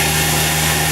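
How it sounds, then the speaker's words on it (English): A milling machine spins at about 5000 rpm with a 3/4-inch four-flute end mill and Syncool coolant, facing a quarter-scale ProMod rear end; a steady loud tonal hum and whine holds evenly throughout. "That's a mill running about 5 grand"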